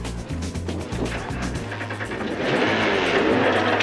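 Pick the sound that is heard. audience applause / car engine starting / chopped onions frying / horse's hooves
car engine starting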